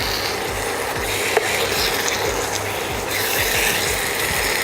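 Paneer pieces being stirred and mixed with masala in a pan for shahi paneer, a steady scraping, rasping rub of spoon against the pan with faint clatter, close and continuous throughout.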